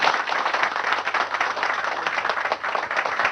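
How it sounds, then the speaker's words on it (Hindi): Dense, steady applause from a large audience fills an auditorium hall aboard the Indian Navy aircraft carrier INS Vikrant, a continuous wash of many hands clapping at once without pause. "ये तालियां गूंज रही हैं आईएमएस विक्रांत के एक हॉल में, एक ऑडिटोरियम में।"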